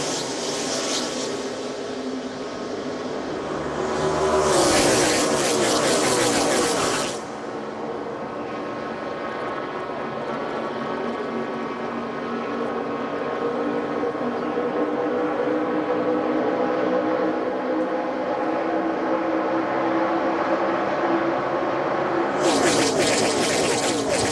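A field of NASCAR stock cars roaring around Daytona in the 2009 Gatorade Duel qualifying race, a loud continuous engine drone with cars swelling past in brief louder surges at the start and end.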